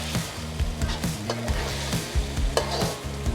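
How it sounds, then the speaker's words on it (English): Beef and eggplant pieces stir-fried with black bean sauce in a hot pan, a steady sizzle broken by repeated scraping strokes of a spatula against the wok, close and continuous. "add in the beef and the eggplants. And just coat all of those ingredients with the delicious sauce."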